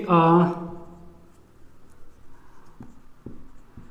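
Soft scratching of writing on a board or paper follows a short burst of speech, with a few faint taps and strokes.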